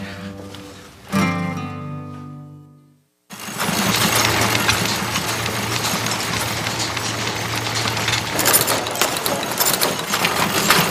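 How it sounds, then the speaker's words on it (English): Industrial sewing machines stitching labels into garments in a factory, a loud steady mechanical whir and clatter that fills the room after a brief tonal opening sound and a moment of silence. "Women, they're sewing labels into garments."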